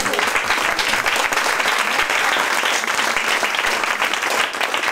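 Loud, dense applause fills a conference hall during a talk on the paranormal, many hands clapping steadily and close for about five seconds with no voices.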